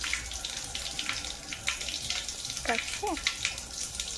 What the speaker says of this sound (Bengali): হাতটা ধুয়ে নিচ্ছি।